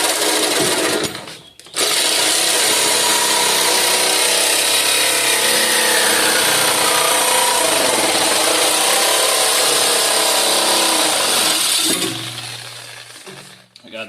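A Sawzall reciprocating saw cuts through car body metal during an AWD body swap on a 1968 Charger, a loud, continuous, buzzing rasp up close that runs for about ten seconds before stopping.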